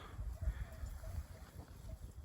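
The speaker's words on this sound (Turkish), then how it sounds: "biraz rüzgar şiddetli esiyor" Strong wind blows across the snowy Nurhak mountains during a blizzard, buffeting the microphone with low, gusty rumbling that rises and falls continuously at a moderate level.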